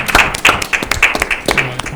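A studio audience applauds a quiz contestant at a quiz show, giving a short round of fairly close, rhythmic clapping with voices mixed in beneath it.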